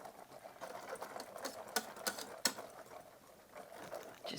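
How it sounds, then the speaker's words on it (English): A whisk beats eggs into warm pecan pie filling in a bowl, giving a quiet, quick, rhythmic patter with a few sharper clinks against the side. "Just keep whisking till you get all the eggs incorporated in it."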